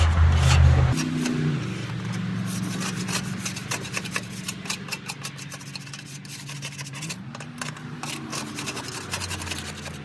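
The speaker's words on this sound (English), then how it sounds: "Now you can kind of see all this. Scrape it around." A scraper rubbing and rasping across a grill grate to clear off ash and grease, a close, repetitive gritty scraping with a low engine-like hum underneath, no voices.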